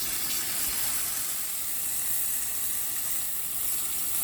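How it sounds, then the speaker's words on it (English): Steak medallions sear in a hot pan, giving a steady, close hiss and sizzle that holds at an even level throughout, with no talking. "now I'm just going to try and sear the edges just to sear all the flavor in"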